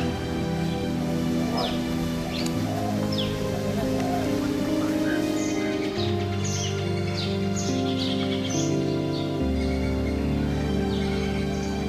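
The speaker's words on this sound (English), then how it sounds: "all the while, the bird's song accompanied the sights." Birds chirp and call in short, scattered bursts among the ancient temples of Bagan, Myanmar, set over a dense, steady bed of layered tonal drones that runs throughout.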